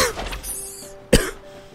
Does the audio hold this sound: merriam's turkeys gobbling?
no